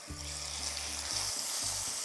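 Seasoned calf liver, salted and peppered, browns in a frying pan with a loud, even sizzle. A low steady hum runs underneath, and no voices are heard.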